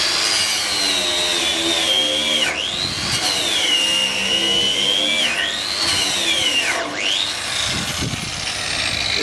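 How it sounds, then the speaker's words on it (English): A twist knot wire wheel brush on a power tool grinds loudly and steadily at a weld on a steel trailer, its whine dipping and rising as the pressure changes, continuous and close. "So you can see here where there's a weld, we're just going to go in there and clean that one right out."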